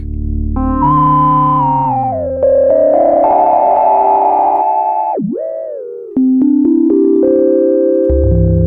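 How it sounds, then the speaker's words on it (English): UDO Super Gemini synthesizer with the filter tracking the keyboard, a sequence of sustained notes stepping through pitches with resonant tones following each note, one brief downward swoop midway, clean and loud. "we've got keyboard tracking, so the filter can totally track"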